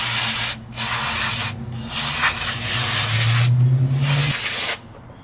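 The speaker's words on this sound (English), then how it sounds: "we're just gonna use some brake clean and just clean up all the stuff" Brake cleaner sprays onto Toyota rear axle parts during a rear axle seal and bearing job, in four loud, close aerosol hissing bursts of a second or so each, separated by short pauses.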